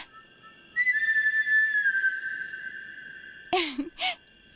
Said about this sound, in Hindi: ये सीटी वही बजा रहा है।